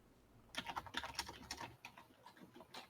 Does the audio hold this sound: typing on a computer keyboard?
yes